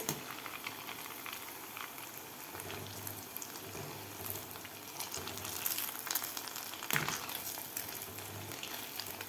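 Potato and poha pakoras deep fry in hot oil until golden brown, giving a soft, steady bubbling and crackling at low volume with no one talking.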